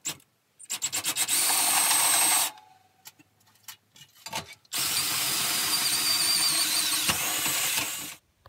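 A step bit reams a half-inch hole out to 7/8 inch in a camper stove to fit a sparker. Two loud, sustained grinding bursts of drilling are separated by quieter pauses with small clicks and handling noises.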